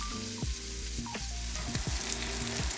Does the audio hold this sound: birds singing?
no